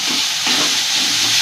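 Kashmiri chili powder and onion-garlic masala roast in hot oil, giving a loud, steady, close sizzle with soft stirring scrapes and no talk.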